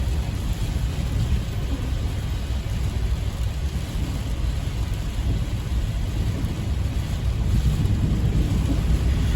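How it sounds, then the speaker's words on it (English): Heavy rain downpour with thunder: a dense, constant roar of rain with a deep rumbling low end, loud and unbroken throughout, no voices. "We need rain, but we kind of don't need these quick downpours."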